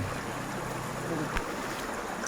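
Steady broadband rush of water from the Huai Kaeo waterfall stream near Chiang Mai, a continuous close hiss that holds level throughout with no pauses.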